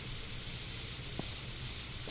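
Steady hissing spray in Internet Cafe Simulator 2, a continuous airy wash held evenly for about two seconds with a faint low hum beneath.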